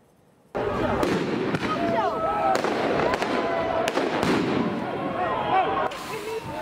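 Fireworks going off at a street protest in the Netherlands, a dense run of cracks, pops and whistling bursts over loud crowd shouting and chatter, sustained for several seconds.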